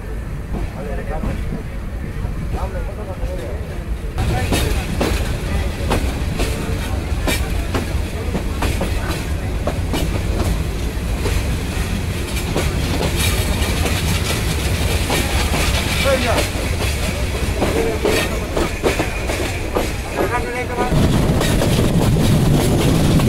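Parabat Express passenger train on the Sylhet to Dhaka line, pulling out of Srimangal railway station in the evening; a loud, close, continuous rumble with rhythmic wheel clatter that deepens toward the end.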